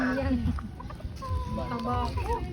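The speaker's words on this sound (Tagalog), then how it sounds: "Mga maliliit bantam yan eh." Small bantam chickens clucking close by in rural Bulacan, several short harmonic clucks scattered through the moment over a busy background, with people chatting throughout.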